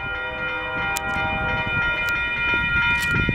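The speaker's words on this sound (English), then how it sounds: "This train must be just flying." A Union Pacific mixed freight train rushes past at speed in Rochelle, Illinois, a loud continuous rumble with steady tonal wheel squeal and sharp metallic clanks from the rail cars, close by and with no talking.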